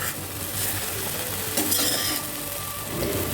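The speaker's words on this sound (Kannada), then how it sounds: "ಎಲ್ಲವನ್ನು ಚೆನ್ನಾಗಿ ಫ್ರೈ ಮಾಡ್ಕೊಳ್ಳೋಣ" Ingredients for methi chutney sizzle and fry in a pan while being stirred, a steady close hiss with scraping strokes of a utensil against the pan.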